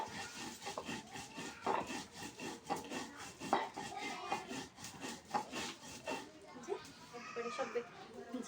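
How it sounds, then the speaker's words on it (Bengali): Cumin seeds and cardamom are ground finely on a flat grinding stone, a steady back-and-forth rubbing scrape repeating in close rhythm for several seconds, with a voice talking over the work. "জিরাটার এলাচ ফলটা বেটে নেব মিহিন করে।"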